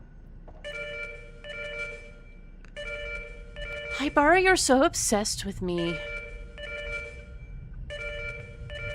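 Telephone ringing in the video game Fatal Frame 4: a repeating electronic ring in regular bursts throughout, paused mid-clip while a person speaks over it, then resuming at the same steady rhythm.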